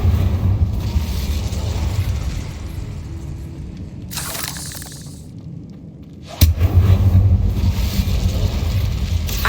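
An Incendio fire spell erupts in Hogwarts Legacy: a loud burst of fiery noise about midway through, then a second sharp, heavy blast that roars on to the end over steady low game rumble.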